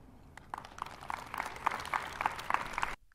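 Audience applause builds from scattered claps into steady, moderately loud clapping for a few seconds before cutting off abruptly.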